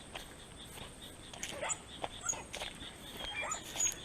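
Impatient dogs whimper and yip in short, high, scattered bursts, fairly faint and close, with a little shuffling movement in between.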